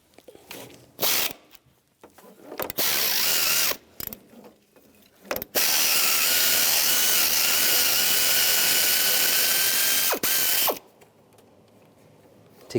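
A ratchet with a 10mm socket backs out a bolt on a 2006-2011 Cadillac DTS during drive belt work: rapid, close clicking ratchet bursts, two long continuous runs between short handling clatters.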